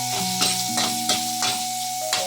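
Sweet potato and carrots stir-fried in a pan, a steady sizzle with regular scraping stirs about every half second, and a constant background hum underneath.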